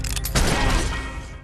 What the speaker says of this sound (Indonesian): Dia meminta maaf, tapi Ned mencabut pistol dan langsung menembak lelaki itu dengan beberapa kali tembakan